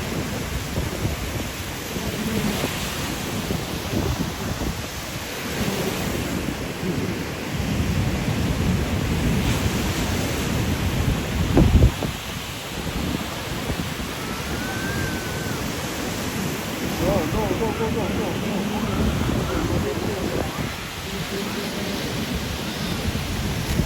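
Ocean surf at a La Union beach gives a steady, broad wash of breaking waves that rolls on without a break, loud and close, with a few faint distant voices now and then.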